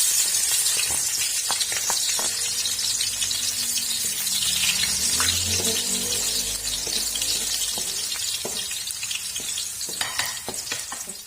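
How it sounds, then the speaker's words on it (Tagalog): Garlic sautés in a pan as pork menudo is started, giving a steady, close, hissing sizzle throughout, with scattered clicks and scrapes of stirring and a brief low bubbling gush midway. "Gigisa ko na yung bawang."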